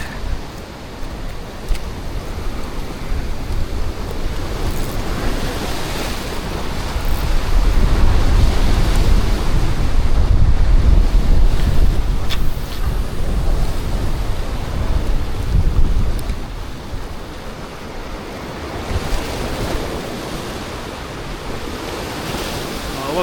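Ocean waves surge against a rocky cliff with strong gusting wind buffeting the microphone, a continuous loud roar that builds and eases in long swells, heard from a fishing spot on the cliff edge.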